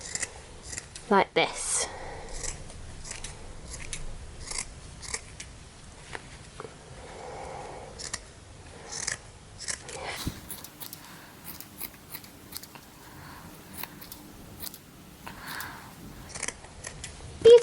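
Scissors snip repeatedly, trimming the loose ends of a fabric pom-pom in quick, close crisp cuts, while someone talks softly over part of the cutting.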